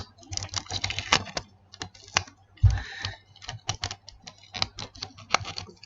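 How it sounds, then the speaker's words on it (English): Sticky tape pulled and pressed around a folded paper pocket gun, a quick run of crackly rips and taps with one firmer thump midway, close and fairly quiet, no talking. "You're just going to tape it with a piece of tape."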